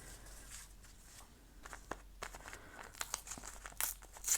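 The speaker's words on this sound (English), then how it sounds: "I don't like the straight edges, so I will just rip off bits." Paper being torn into small pieces by hand for an art journal page, a series of short crinkling rips at irregular intervals, close and fairly quiet, growing louder toward the end.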